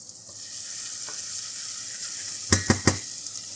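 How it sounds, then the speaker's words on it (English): Onions sauté with a pinch of salt in a pan, a continuous, close hiss of frying, then three sharp utensil knocks against the pan near the end. "saute the onions until they're translucent and soft"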